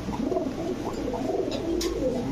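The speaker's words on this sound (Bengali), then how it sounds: "এটার সাথে একটা কাসুরি কবুতর আছে" A male Kasuri teddy pigeon at a pigeon farm coos softly in low, repeated rolling notes close by, with faint background noise and no talking.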